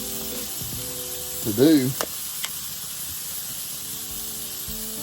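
Smashed burger patties frying on a hot surface give a steady, faint sizzling hiss throughout, with a short burst of voice and clatter near the start.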